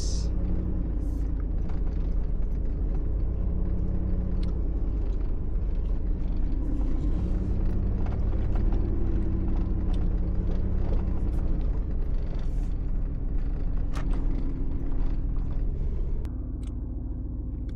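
Heavy Friday traffic streams along a highway, a continuous loud rumble of passing cars and engines, heard steadily from close by.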